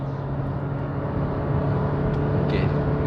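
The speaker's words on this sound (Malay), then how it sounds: "saya akan cuba test dia punya acceleration daripada 100 lah" Honda City Spec E 2021 sedan accelerating from 100 km/h in drive, a steady low engine and road drone heard from inside the cabin, rising slightly near the end.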